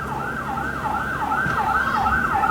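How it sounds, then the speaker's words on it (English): An emergency vehicle siren wails in a steady rising-and-falling cycle, fairly loud and continuous over traffic rumble, heard from outdoors near beehives in a garden. "And also the siren."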